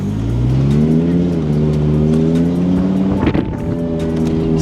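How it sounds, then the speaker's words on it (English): An Audi R8 with a brand new engine block drives on the road, its engine note rising steadily through the revs in a loud, smooth drone heard from inside, then dipping briefly near the end before pulling again. "first drive, or should I say second drive, in the Audi R8."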